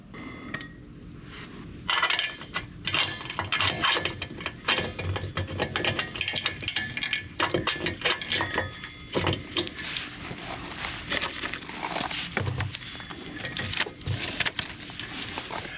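Metal foot slid back onto an electric trailer jack, with close clicking, ratcheting and clanking metal parts in irregular bursts over a steady low background.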